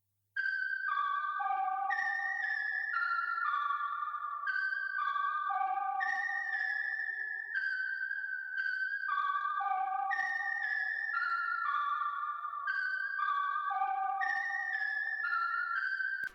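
Synth keys play a simple repeating counter melody built from chord tones in an R&B arrangement, a bright bell-like descending figure cycling about every four seconds, clean and alone at steady volume.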